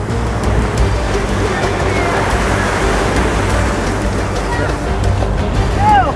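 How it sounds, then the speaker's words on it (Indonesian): Ocean waves roll onto a shallow shore where seaweed is gathered at Way Haru, Indonesia, making a loud, unbroken surf roar with no clear gaps. "kita harus berkejaran sama ombak"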